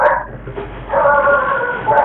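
A greyhound-type dog gives a few short, close yelping barks, with a brief pause between the bursts.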